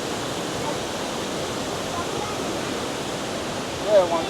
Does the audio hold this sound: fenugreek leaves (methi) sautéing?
no